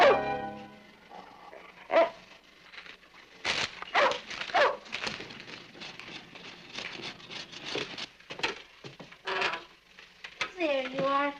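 A sitcom household dog named as gentle gives a few short barks and yips between stretches of dialogue, the animal sounds brief and close, mixed in with people talking nearby.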